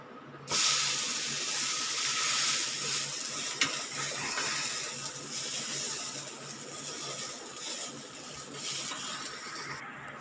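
A lentil uttapam fries in oil under a lid in a pan, giving a steady, even sizzling hiss that runs unbroken for about ten seconds with no talking over it.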